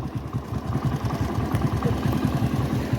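A motorcycle engine running steadily on a ride toward Gurdwara Arisar Sahib near Anandpur Sahib, a close, even mid-pitched throb with rhythmic pulsing and no talk.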